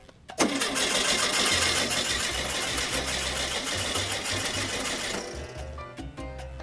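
An air-cooled Volkswagen Super Beetle engine cranks and catches, then runs with a loud, steady, clattering mechanical roar close by, and settles to a lower idle near the end.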